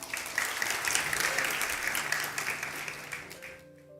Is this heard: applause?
yes